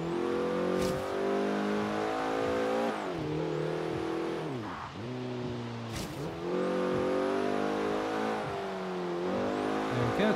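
Porsche 944 Turbo engine in the racing game Forza Horizon 3 revs hard through repeated gear changes on a wet track, rising in pitch, dropping at each shift, then climbing again, loud and steady throughout.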